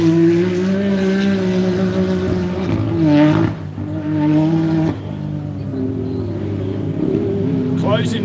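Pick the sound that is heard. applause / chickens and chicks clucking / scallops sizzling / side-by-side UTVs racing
side-by-side UTVs racing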